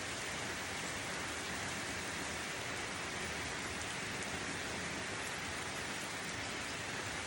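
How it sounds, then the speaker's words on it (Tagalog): Steady rain pours down continuously, a dense even hiss of drops hitting surfaces with no voices and no pauses. "Sarap pakinggan ng ulan."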